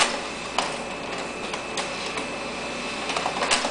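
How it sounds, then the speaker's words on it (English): A Samsung CLX-2160N colour laser printer prints a PDF, giving a steady close mechanical whir with a high tone and light clicks and ticks throughout. "Here we're printing off a PDF file."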